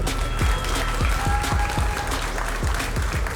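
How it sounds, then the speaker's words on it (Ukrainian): A crowd at a bare-knuckle fight event claps for a fighter, with loud, rhythmic applause and a few sharp, thumping claps standing out. "Підтримайте ковбоя оплесками, друзі"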